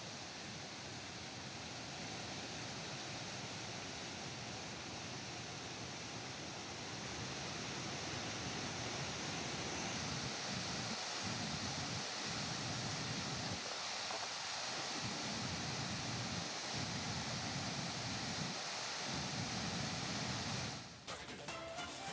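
Mookana Mane waterfall in Sakleshpur, swollen after heavy rain, roars as a steady broadband wash of falling water, constant and enveloping with no voices, ending in a brief handling bump.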